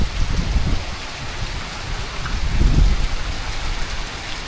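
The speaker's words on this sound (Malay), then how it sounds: "Tunggu hujan reda je." Heavy rain pours down on Pulau Redang island, a dense, steady hiss of drops with low rumbling surges, loud and close with no voices.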